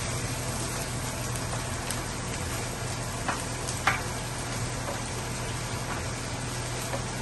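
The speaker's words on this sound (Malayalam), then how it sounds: "പക്ഷെ ഈ ഇഞ്ചിക്ക് ഇത്തിരി വെള്ളം കൂടുതലുള്ളതുകൊണ്ട് ഇഞ്ചി ആദ്യമേ നമുക്ക് വറുത്ത് കോരിയെടുക്കാം." Steady, hissing sizzle of ginger frying in hot oil, continuous and fairly even, with a couple of faint clicks and no talking.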